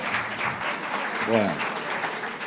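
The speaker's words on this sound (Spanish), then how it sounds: "Lo vamos a aplaudir" Audience applause at a national Lourdes hospitality congress in Mallorca, steady and moderately loud, with a short voiced sound briefly breaking through the middle.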